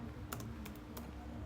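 Typing on a computer keyboard, a few quiet separate key clicks spaced unevenly over a faint steady background hum.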